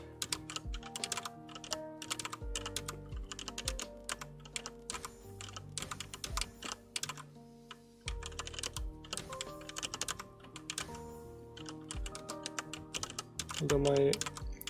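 Quick keystrokes clatter on a computer keyboard in dense bursts with short pauses, close and fairly soft, with a voice talking intermittently underneath.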